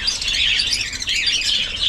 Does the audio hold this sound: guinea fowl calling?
yes